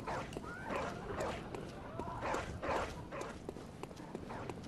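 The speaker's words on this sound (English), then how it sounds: "Hey, yeah, bark at me all you want." Dog barking in Bloodborne, a few rough barks with footfall-like thuds in a quiet, dim game scene, faint overall.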